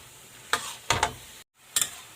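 Chicken and broccoli are stirred in a frying pan, a few short scraping and clattering strokes over a faint background sizzle, with a brief silent gap.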